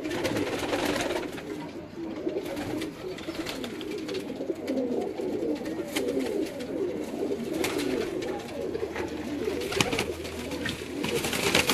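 Teddy pigeons owned by Chaudhry Amjad coo steadily throughout, a soft continuous murmur of several birds close by with no talk.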